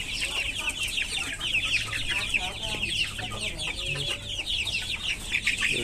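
Several native desi chickens clucking and chattering continuously at close range, a steady busy flock murmur with overlapping calls.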